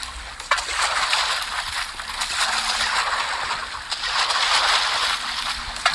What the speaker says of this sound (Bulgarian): Тук има някаква вода, тече.